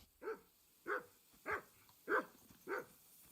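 A dog in a video game barks five times at a steady, evenly spaced rhythm, each bark clear and moderately close against a quiet background.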